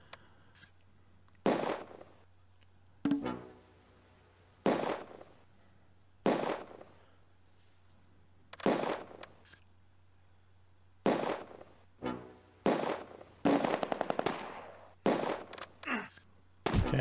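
Mortar and gunfire bursts from the Close Combat: A Bridge Too Far war game, sharp cracks and booming impacts arriving every second or two over a steady low hum, with a dense cluster of shots near the end.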